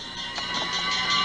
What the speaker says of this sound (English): That bell is the sound from a... Fire engine.